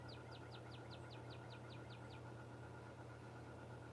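A cardinal calls outdoors in a rapid series of about ten clear, sharp chirps over roughly two seconds, faint and fairly distant over a steady low engine-like hum.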